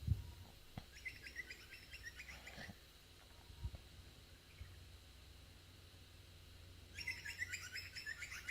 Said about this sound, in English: Butcherbird.